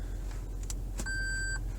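A 2020 Lexus LX 570 chimes its warning while being shifted into low four-wheel drive: a couple of soft tones, then a clear steady electronic beep held for about half a second over a low idling hum in the cabin.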